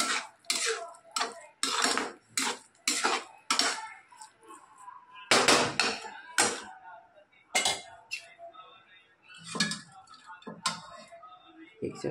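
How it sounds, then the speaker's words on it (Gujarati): A spoon mixing dal and rice in a dish, giving repeated close clinks and scrapes of metal against the dish in irregular bursts, with faint voices in the background. "આ રીતે દાળને ભાત મિક્સ કરીને ખવડાવીએ છીએ"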